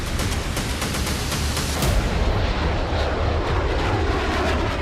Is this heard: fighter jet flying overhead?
yes